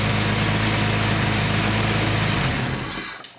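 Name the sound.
Datsun 280ZX turbo engine running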